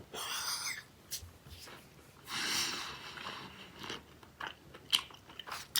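Close, soft wet chewing of a big bar of Dubble Bubble bubble gum in 1928 flavor, with irregular smacks, bites and crunchy mouth sounds spaced by quiet moments, and no talk.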